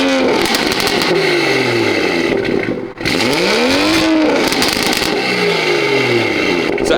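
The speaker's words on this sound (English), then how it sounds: "So as you guys heard, that's what the car sounds like." A BMW F30 car engine revs hard and loud, pitch climbing and falling in repeated sweeps with a brief dip around the middle before winding up again, close and with no talking.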